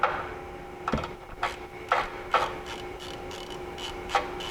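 A hand ratchet works a 10mm bolt on the AC dryer clamp of a 2004-2009 Mazda 3, giving a series of close, crisp clicking strokes at an uneven pace with short pauses, over a faint steady hum.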